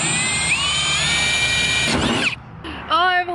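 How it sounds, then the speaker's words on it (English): A power drill bores holes into the trunk of a 240SX car, a close whining drill note with pitch sweeps that cuts off, followed by a short burst of speech. "And I got my drill."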